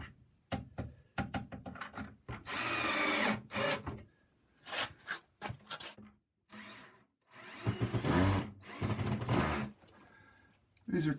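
A power drill drives 2-inch deck screws into wood while building drawers under a workbench, in several whirring bursts of varying length separated by pauses, with someone talking quietly between them.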